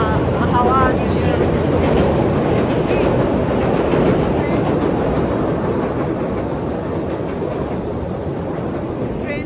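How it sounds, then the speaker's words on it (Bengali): A train rolls past close by near Chicago, a steady loud broadband rumble with rhythmic clatter of wheels filling the whole stretch, a brief bright squeal near the start. "ট্রেন যাচ্ছে।"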